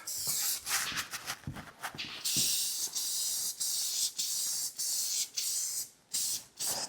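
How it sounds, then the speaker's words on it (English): Shellac sealer is sprayed onto a wardrobe in a series of short hissing bursts of varying length, separated by brief pauses, close to the listener. "I'll just give it a coat of shellac to seal this area up"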